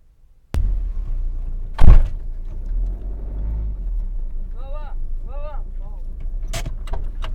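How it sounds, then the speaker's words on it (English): A car being driven forward at the Iraq to Turkey border crossing, with a low engine rumble, a loud thunk like a door closing, and people talking and chirpy voices over the idling vehicle. "he just fucking hopped in the car and just started driving it forward"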